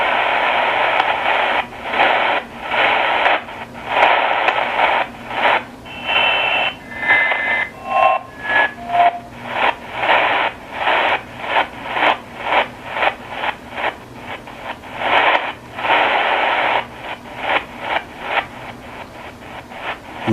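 A Tecsun PL-330 shortwave radio on the 40 meter band in lower sideband mode gives loud hissing static that pulses in rapid bursts while the tuning sweeps, with a few brief squeaky tones slipping past.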